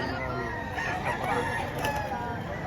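Roosters crowing amid dense clucking and calls of many chickens at a chicken expo, a busy, continuous, crowded flock sound with faint talk in the background.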